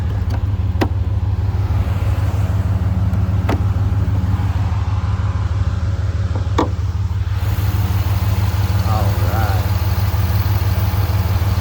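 A Jeep Gladiator with a swapped 392 Hemi V8 idles with a deep, steady low rumble close by, someone talking over it and a few faint clicks in the background.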